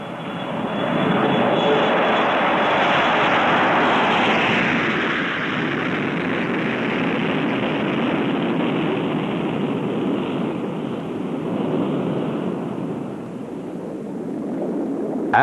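A North American XB-70 Valkyrie bomber passes in flight on a subsonic test run, its jet engines a loud, sustained roar that swells and eases slightly, alone without voices.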